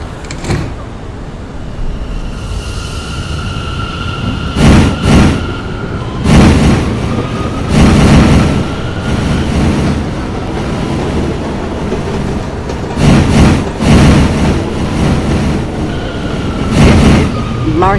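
An R179 M subway train runs along the Myrtle Avenue line toward Marcy Avenue, giving a loud, steady rumble with repeated rhythmic clatters of wheels over rail joints and faint whining motor tones.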